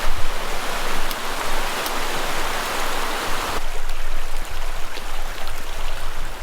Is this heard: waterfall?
yes